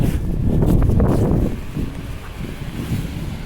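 Cold winter wind buffets the microphone outdoors during a walk from a bus terminal toward public gardens, giving a loud, rumbling roar that eases slightly toward the end.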